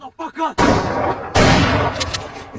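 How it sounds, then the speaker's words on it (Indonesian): A brief voice, then heavy gunfire hitting a house crashes in with a loud sustained burst, a second powerful blast following about a second later amid roaring noise. "semua tembakan yang perlahan-lahan menghancurkan rumahnya"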